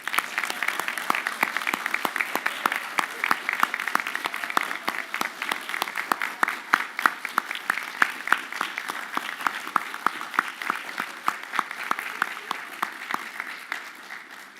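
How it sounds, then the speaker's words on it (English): An audience claps continuously for about fifteen seconds, many individual hand claps forming a steady, moderately loud patter with no voices. "give yourselves a big round of applause"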